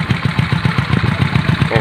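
Close-up idle of a rebuilt Honda Dream motorcycle engine, the exhaust putting out a quick, regular chain of low pulses that holds steady throughout.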